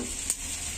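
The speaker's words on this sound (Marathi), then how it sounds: "आणि आता आपण डोसा पलटी करूया" A whole wheat dosa, drizzled with oil, hisses steadily on a hot pan as it is flipped over, with one brief soft scrape partway through.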